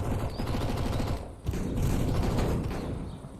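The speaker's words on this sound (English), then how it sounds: "2把喷子" Shotgun blasts in CS:GO, heard as dense, close gunfire with mechanical reload clatter, loud and continuous, breaking briefly midway before resuming.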